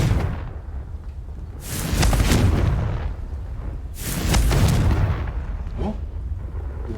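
Confringo fire spell blasts in Hogwarts Legacy, two heavy booming bursts a couple of seconds apart with a rumbling tail, moderately loud over a low background.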